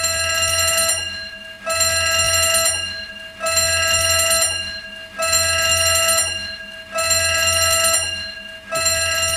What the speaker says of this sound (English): if a fire alarm goes off?